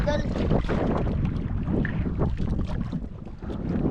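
Gusty wind buffets the microphone in loud, rough bursts, with a few faint voices and some splashing mixed underneath.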